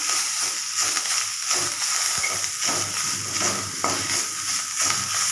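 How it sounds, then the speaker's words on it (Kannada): Food frying in a pan with oil sizzles steadily and loudly, broken by repeated scraping and stirring strokes and occasional small knocks of the utensil against the pan. "ಇವಾಗ ಚೆನ್ನಾಗಿ ಹುರ್ಕೊತೀನಿ"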